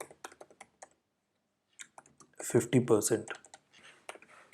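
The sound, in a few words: typing code on a computer keyboard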